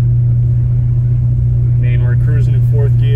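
A Cadillac CTS-V drives along with a loud, steady low engine drone and rumble heard from inside the cabin, and a person starts talking partway through.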